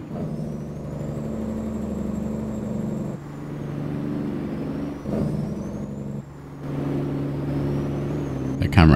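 Kenworth T909 truck in American Truck Simulator, with a loud, close engine drone that drops and returns across gear changes, a faint whine above it, and a sharp air-brake hiss at the very end.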